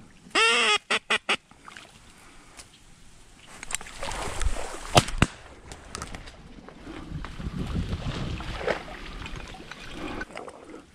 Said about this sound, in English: Oh, one flock of teal in front of us.